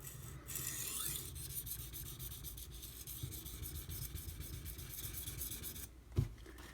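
A Karaku Aogami bunka kitchen knife, 165 mm, being sharpened on a whetstone: steady continuous rasping strokes of steel scraping across the stone, close and even throughout, with a brief knock near the end.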